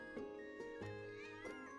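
Cat meows in the video game Witchy Business, about three short rising mews in quick succession over a steady musical background, near and clear.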